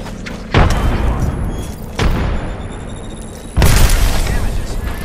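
A frag grenade explosion in the Apex Legends video game booms loudly, with a series of three heavy blasts in a firefight, each followed by a rumbling tail.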